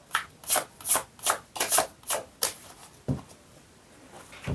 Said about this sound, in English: Pile 1 are always encouraged to watch the shuffling of the cards